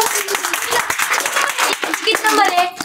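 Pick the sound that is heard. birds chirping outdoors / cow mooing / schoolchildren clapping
schoolchildren clapping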